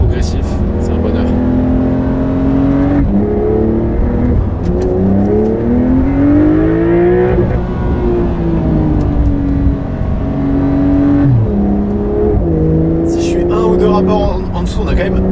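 A turbocharged rear-engined Porsche 911 pulls repeatedly through the gears, its engine note climbing and dropping at each shift, loud and steady from the cabin, with someone talking throughout.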